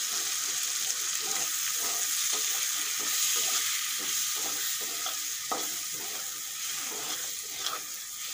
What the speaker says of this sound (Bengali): আর দিয়ে দেব সাম্বার মশলা। এগুলো একটু ভালো করে ভেজে নেব।